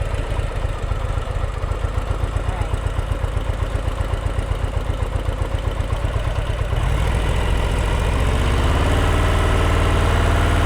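A motorcycle engine chugs at low revs during slow-speed riding drills, a close, steady pulsing idle that rises into a smoother, fuller drone partway through as the throttle opens.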